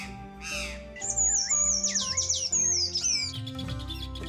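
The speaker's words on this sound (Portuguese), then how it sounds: "Uma variedade de aves inicia a cantoria para atrair" Songbirds such as sabiás, tico-ticos, corruíras and sanhaços sing during mating season in the Brazilian wild, with bright whistled phrases, trills and chirps overlapping close by, one loud high warbling song running through the middle.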